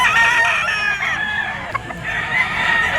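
Young roosters (stags) at a poultry market crowing loudly and close, with clucking in between and other fowl calling in the background.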